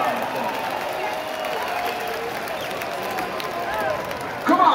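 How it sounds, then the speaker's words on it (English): Concert crowd applauding and roaring at the close of a set in Denver, a dense, steady wash of clapping and crowd noise throughout, swelling slightly at the very end. "give yourself a big fucking round of applause"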